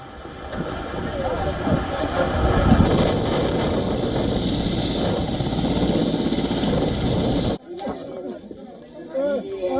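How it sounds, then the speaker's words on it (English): A helicopter carrying casualties lands on a runway, its loud steady rotor and engine roar filling most of the clip before cutting away abruptly, with voices heard over and after it. "a helicopter carrying casualties landing on the runway"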